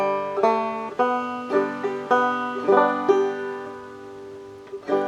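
A banjo tuned to open G is picked in clawhammer style through the tune I'll Tell Me Ma, with bright plucked notes ringing in a bouncy, steady rhythm, close and alone without talk.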